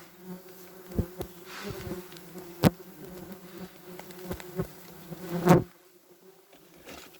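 Agitated wasps swarm around big attic nests, giving a low buzzing hum punctuated by sharp close fly-bys and knocks as they strike at whatever moves.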